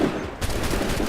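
Musket volley in Assassin's Creed: a sudden loud crackling burst of massed gunfire, rolling on with dense, noisy reports for about a second.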